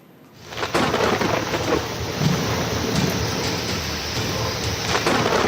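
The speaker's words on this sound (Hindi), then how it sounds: "जिस तरह से गुजरात के अलग अलग हिस्सों में बारिश हो रही है, उससे हालात बिगड़ते जा रहे हैं" Heavy rain and rolling thunder during monsoon flooding in Gujarat, a dense, loud, continuous roar of downpour with deep rumbles swelling beneath it, steady throughout with no voices.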